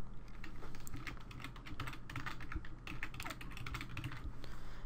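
Rapid keystrokes on a computer keyboard as a password is typed while setting up a Linux Mint 16 Cinnamon install, close and continuous clicking over a low hum with no voices.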